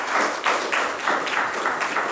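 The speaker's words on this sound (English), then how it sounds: "Can we get a round of applause for that this book is back in print?" Audience applause at a 2023 relaunch event for Sylvia Hunt's cookbook, a steady wash of clapping from a crowd that swells in soft repeated surges, close and even throughout with no voices over it.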